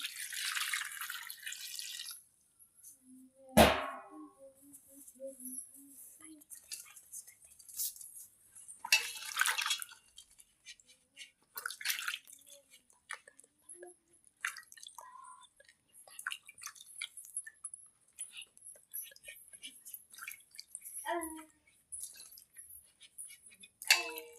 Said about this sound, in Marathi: तर ही भेंडी आता स्वच्छ पाण्याने धुवून घेणार आहे मी